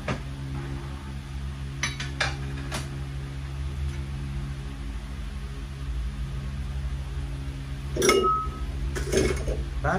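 Plates, glasses and cutlery clinking as a table is set at home, a few sharp isolated clinks early on and a louder pair of knocks near the end over a steady low household hum.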